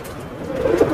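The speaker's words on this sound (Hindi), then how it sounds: "बहुत एक्टिव कबूतर है ये" A short, soft racing homer pigeon coo rising near the end, close by, with a low hum of background noise.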